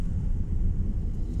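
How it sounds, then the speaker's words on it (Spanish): Low steady rumble of road traffic heard from inside a moving car during the evening rush hour, a continuous engine and tyre drone with no talk. "Hay bastante tráfico porque estamos en la hora de que todos retornan a sus casas."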